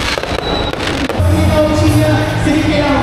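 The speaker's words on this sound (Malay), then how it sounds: "Ada bunga api" Fireworks explode outdoors in Ipoh, a dense run of loud cracks and booms in quick succession, followed by a lingering rumble and crackle, with no speech over them.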